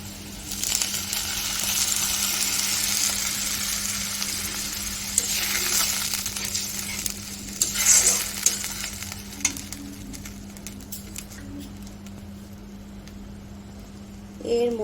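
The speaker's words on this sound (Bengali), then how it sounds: "আমি নাড়াচাড়া করে ভেজে নেব ভালোভাবে" Onions fry and sizzle in a pan while being stirred for a bitter gourd and pangas fish dish, a steady hiss with scraping spatula strokes and light clinks, a constant low hum underneath.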